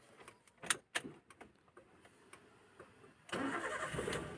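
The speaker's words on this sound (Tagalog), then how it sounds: "So, start muna natin yung engine." A few clicks and ticking sounds, then a Toyota Avanza engine with an intermittent no-acceleration fault cranks and catches, settling into a steady rumbling idle.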